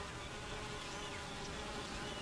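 Honey bees hum at the hive entrance in a dense, steady drone that never lets up, soft but continuous, with no voices.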